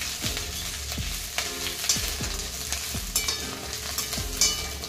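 Curry leaves roasting over a low gas flame with lentils and coconut, making a steady close sizzle with repeated scraping stirs of a spoon through the pan and no talk.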